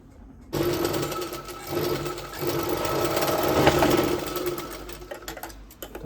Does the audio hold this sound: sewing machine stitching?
yes